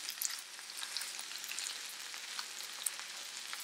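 Spinach stir-fried in a pan sizzles with a faint, steady hiss and scattered tiny pops and crackles, fairly quiet and without any voices.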